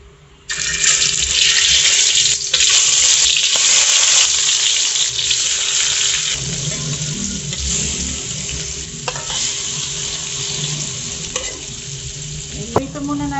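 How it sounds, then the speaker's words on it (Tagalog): Peeled shrimp fry in a hot pan one at a time, giving a loud, steady sizzle throughout with occasional stirring and scraping sounds. "ipiprito muna natin yung ating binalatang hipon"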